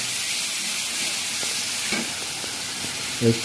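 Onion paste sizzles in hot oil for a bhola fish curry with potato and brinjal. The hiss is steady and close, with a brief clink near the end and no talking.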